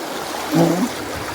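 Strong river current flowing, a steady broad rush of water with a brief low vocal-like murmur in the middle.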